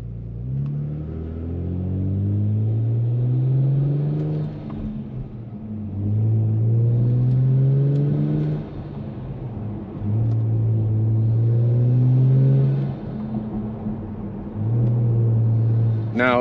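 Car exhaust rumbles up in pitch through repeated accelerations with paddle-shifted gear changes, brief drops and gurgles between shifts as the gas lifts, loud and close.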